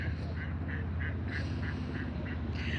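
A duck by a river gives a steady series of nasal quacks, roughly three per second, at moderate distance over a constant wash of flowing water and outdoor background noise.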